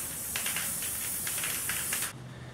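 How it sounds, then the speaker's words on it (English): Spray adhesive hisses from an aerosol can in several short bursts during a scrap wood pub game project, fairly close and alone, before a quieter steady hum takes over. "Best thing you could use is spray adhesive."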